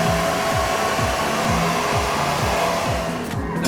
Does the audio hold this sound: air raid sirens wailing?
no